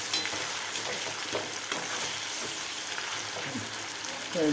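Food sizzles and fries in a cheenachatti as it is stirred and scraped around the pan, a continuous crackle with short scraping strokes and a voice talking lightly over it.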